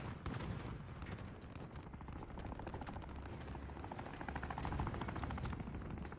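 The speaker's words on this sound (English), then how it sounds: "Enemy helo on approach." Enemy helicopter closing in during a Call of Duty Modern Warfare match at Verdansk International Airport, a steady dense rotor drone layered with bursts of gunfire and explosions that runs loud and continuous throughout.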